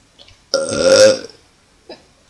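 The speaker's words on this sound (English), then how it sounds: "we're going to see who can do the best burp" A single loud, drawn-out human burp lasting about a second, deep and throaty, followed by a brief faint vocal sound.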